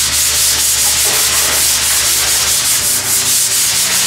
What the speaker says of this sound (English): you can take a sanding block and some coarse paper